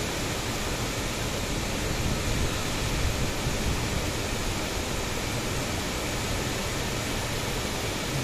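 Borhill waterfall at Mawlynnong, Meghalaya, swollen with rainwater, roars as a dense, unbroken broadband rush heard from a bridge, loud and steady with no pauses or voices.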